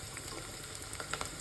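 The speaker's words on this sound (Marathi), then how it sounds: "कांदा तर थोडंसं लालसर होईपर्यंत परतवायचे" Onion sautéing in a pan in a village kitchen, a steady close sizzle with faint crackles and a few soft stirring clicks, no talk.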